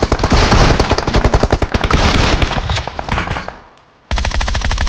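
Rapid bursts of DBS shotgun fire in PUBG Mobile, loud and close, a dense string of shots that trails off into a short silence before the firing resumes.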